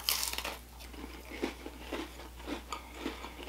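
Close crunching bites and chewing of an Oreo Ritz cracker sandwich filled with peanut butter, a few crisp crunches then softer rhythmic chewing, quiet and alone.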